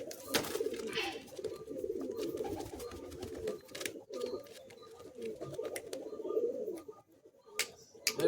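Several Madrasi pigeons coo continuously in low, throaty warbles close by, with occasional wing flutters and light clicks.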